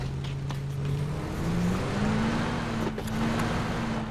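Car engine droning steadily in a PUBG match, the pitch shifting slightly upward as the vehicle drives and accelerates, loud and continuous with no talk over it.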